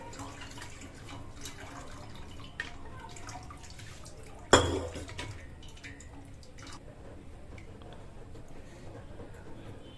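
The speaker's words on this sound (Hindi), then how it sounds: "तो पहले मैं इसका पानी निकाल लेती हूँ।" Cooking water is poured off a pot of boiled stinging nettle, with soft trickling and scattered drips around a single louder splash midway, and no talking.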